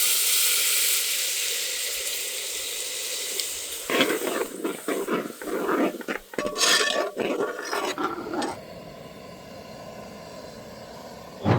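A pan of ground coconut and fennel masala sizzles and bubbles steadily, with a burst of louder scraping and stirring partway through before the bubbling settles again.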